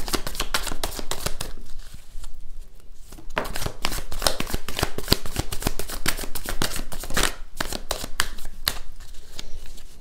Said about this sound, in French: Les cartes, des fois, elles ont du mal à se mélanger